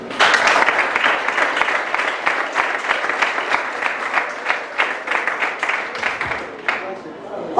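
Congregation at a church sermon clapping for the Lord, a dense, steady wash of many hands with rhythmic pulses running the whole time, loud and close, with no voice over it.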